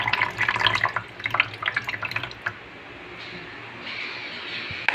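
Water splashes and trickles from a tap in a busy, bubbling stream that settles into a steady, quieter flow.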